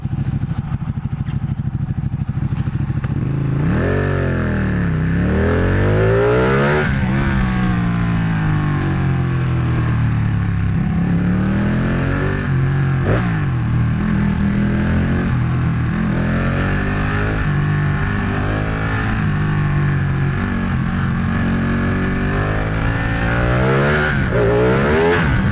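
A Ducati 1199 Panigale motorcycle engine revs hard and loud, rising and falling through repeated sweeping bursts of acceleration across the whole stretch, with no talking.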